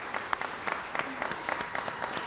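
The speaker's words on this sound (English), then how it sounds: "So first of all, another round of applause." Audience applause at a press conference for Children at Risk, moderate and fairly distant, with scattered individual claps over a steady wash, running throughout without talk.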